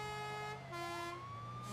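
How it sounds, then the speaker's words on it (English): A fire engine siren wails loudly with a sweeping, rising tone over a low rumbling truck engine. "Bright red with flashing lights and a loud siren."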